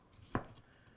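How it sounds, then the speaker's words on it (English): A single crisp chop as a handmade custom kitchen knife, a gyuto, santoku or kiritsuke, cuts through food onto a board, one short close stroke in a quiet room. "when I'm using this knife right here, it's comfortable for me to cut like this"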